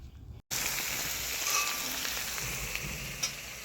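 Onion, garlic and ginger sizzle loudly in hot oil as they are stirred and fried for a Bengali fish kalia, a steady close crackle that starts abruptly after a brief silence, with occasional scraping stirs.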